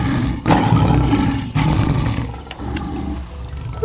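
A human voice imitates a lion's roar during a children's picture-book reading, giving two loud, sustained, growling bursts in quick succession and then trailing off.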